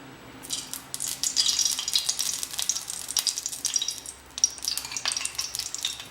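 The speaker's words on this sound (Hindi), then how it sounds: "आप देख रहे हैं कि हमारा घी है गर्म हो चुका है।" Hot ghee sizzling and crackling in a heated pan for a Hyderabadi mutton korma, with bursts of frying spatter and stirring, moderately loud and close.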